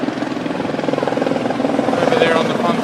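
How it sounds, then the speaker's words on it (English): A helicopter coming in to land on a river pontoon, its rotor thumping in a fast, steady pulse over a low engine drone, loud and close and growing slightly. "A helicopter's coming to land in the river."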